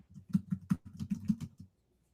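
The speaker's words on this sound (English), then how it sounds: "I'm typing them in" Typing on a computer keyboard during a live show: a quick, quiet burst of about eight keystrokes over a second and a half, then silence.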